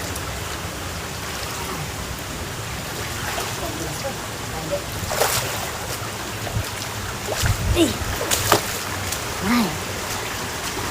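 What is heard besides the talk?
Handuan Falls waterfall, flowing water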